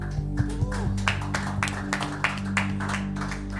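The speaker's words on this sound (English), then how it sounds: "Why don't we give a clap offering to the Lord?" A church congregation claps together during a Sunday morning service, a steady run of sharp, fairly loud hand claps that carries on for several seconds over a low sustained hum of music or organ.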